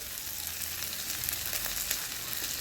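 Chopped garlic, chili and onion fry in hot oil with a steady, close, hissing sizzle that holds evenly throughout the short stretch.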